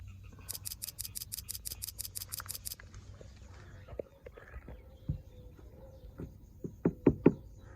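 A BMW rear bumper parking sensor clicks in a quick, even series of about a dozen sharp ticks heard up close, followed by scattered faint knocks and taps.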